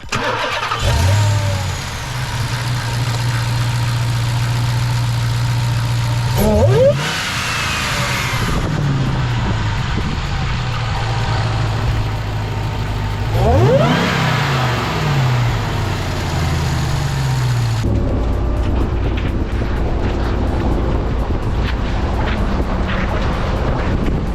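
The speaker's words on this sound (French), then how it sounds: "Moteur à 700 chevaux quand même." A powerful 700-horsepower engine in a TRX roars steadily, rising in pitch through several sharp revs with wind buffeting the microphone.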